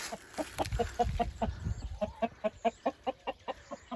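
Chickens cluck close by in a quick, rhythmic series of short notes, with some scuffling and shuffling noise early on.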